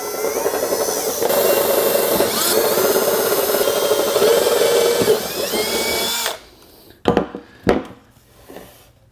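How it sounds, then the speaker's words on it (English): A power drill bores holes during a garage build, whining loud and continuous for about six seconds before stopping, followed by a few sharp knocks and handling sounds. "So if that's the center and I drill here"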